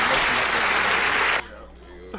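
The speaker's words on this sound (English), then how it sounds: "Give you applause on that one" Loud, dense applause from a group during a casual chat, full and close, cutting off abruptly after about a second and a half into a quiet room with a brief sound at the end.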